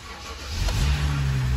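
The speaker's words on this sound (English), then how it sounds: "So if we give the car a start," A BMW car with an N55 engine that had sat unused for a while cranks and catches, then settles into a loud, steady low idle rumble.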